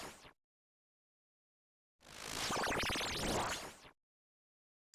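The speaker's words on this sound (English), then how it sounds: "She uses a magic attack that looks and sounds like this." Nightmare boss magic attack in Old School RuneScape: a single loud, dense burst of crackling, swirling magical energy lasting about two seconds, preceded by a short clipped fragment and isolated against silence.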